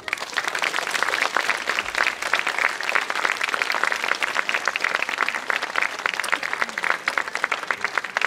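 Outdoor park concert audience in Keila claps steadily for a home-title finalist, a continuous moderately loud patter of many hands with no talk over it.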